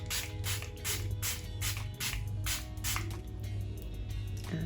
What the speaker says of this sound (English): spray my face with the Nigerian Beauty Seal It Fixing Spray